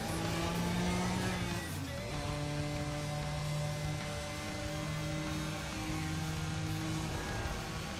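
A car engine in the racing video game Need for Speed ProStreet drones steadily, its pitch stepping up and down as it revs and shifts. The sound is continuous and moderately loud with no talk over it.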